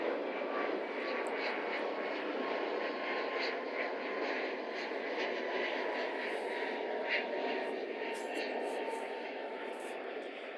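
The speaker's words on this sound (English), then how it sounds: "this plane flies over us" An airplane flying overhead, its engine drone a steady, broad roar that stays constant and fairly loud throughout.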